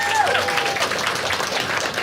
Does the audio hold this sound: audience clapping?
yes